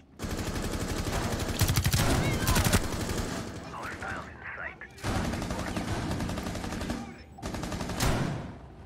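Rainbow Six Siege gunfire roars in long, loud automatic bursts with short breaks between, close and dominant, with some voice underneath.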